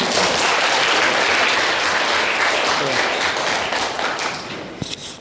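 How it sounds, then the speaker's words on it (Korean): Loud audience applause welcoming a lecturer to a music psychology talk, thick clapping that stays full and then tapers near the end, with a thud or two as it dies down. "박수로 모시도록 할게요."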